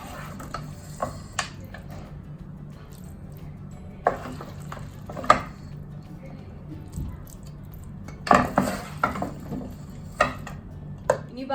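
Marinated chicken is spooned onto rice in a pot for raw mango chicken biryani, with soft squishing and several sharp spoon-on-pot clinks scattered over a quiet background.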